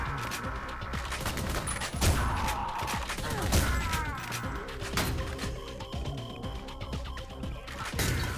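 Enemy gunfire in the first-person shooter Ion Fury, a steady stream of sharp shots and impacts with a few louder cracks, close and continuous throughout.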